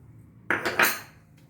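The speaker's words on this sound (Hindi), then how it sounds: "अदरक का पेस्ट हमने एक पैन में डाल लिया। और इसी में हम ये डाल देंगे चीनी।" Sugar is poured into ginger paste in a pan while making ginger candy, heard as a short clattering, scraping sound of a utensil against the pan. Two or three quick metallic impacts stand out in an otherwise quiet moment.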